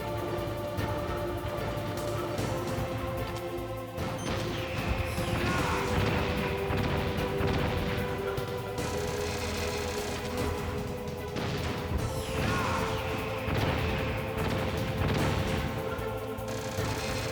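Metal Gear Solid boss fight on PlayStation: loud laser blasts and machine-gun bursts crash repeatedly over a continuous game soundtrack, with heavy impacts recurring throughout.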